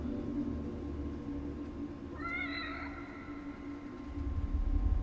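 A single short, wavering cat meow in the video game The Evil Within DLC, sounding mid-distance over a steady low ambient hum and rumble, with no speech.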